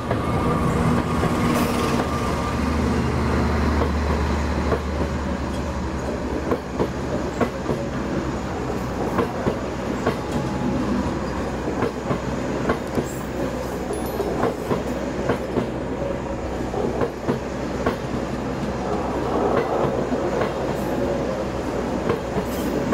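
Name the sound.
passing train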